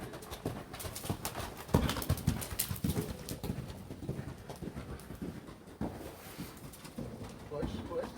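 Horse hooves clopping at a canter during an outdoor riding lesson, a steady rhythmic beat of close, moderately loud footfalls, with occasional voices and faint bird calls in the background.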